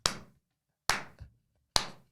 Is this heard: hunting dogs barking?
no